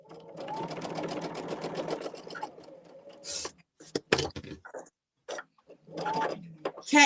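Sewing machine stitching a quilt seam, a fast mechanical whir that runs steadily, then stops and restarts in short bursts, with clicks and handling noises in the pauses.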